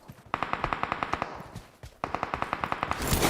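Rapid automatic gunfire in PUBG Mobile, two bursts of evenly spaced loud shots with a brief pause between, ending in a rushing noise.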